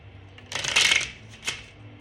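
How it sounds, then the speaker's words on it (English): Tarot cards being shuffled and drawn for a reading: a short riffling flutter of stiff cards, then a single quick snap as one card is pulled, close and clear with no talk. "And we're going to pull this card here."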